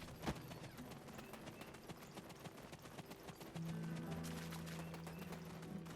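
Horse hooves clip-clop in a steady quick rhythm in the Black Desert video game, with a droning tone entering partway through.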